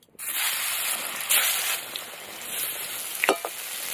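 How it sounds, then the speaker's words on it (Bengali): Eggplant slices seasoned with salt and turmeric fry in hot oil with a steady, close sizzle and a few faint clinks of a utensil near the end. "বেগুনগুলো ভালো করে ভেজে নেব"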